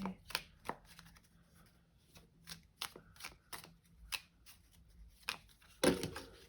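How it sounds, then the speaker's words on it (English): A deck of tarot cards is shuffled up close and quietly: a string of crisp riffles and soft slaps at uneven intervals, ending in one sharper clack. "that's just me being terrible at shuffling as per usual"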